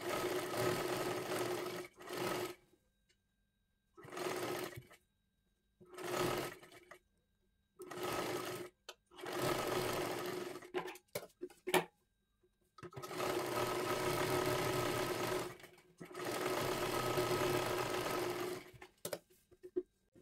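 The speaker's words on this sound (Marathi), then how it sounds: "हे गोलाकारमध्ये शिलाई करून घ्या." A sewing machine stitches a princess-cut blouse in bursts of steady whirring, several runs of a few seconds each separated by silent pauses, close and alone.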